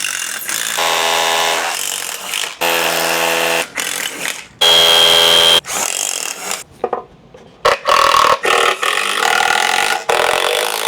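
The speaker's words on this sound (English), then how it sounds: "use a hammer drill and go right through the wood into the block" A hammer drill bores through wood into a concrete block during a sub-panel install, giving loud grinding, rattling bursts of several seconds each, separated by brief pauses and short stops and starts, with no talking.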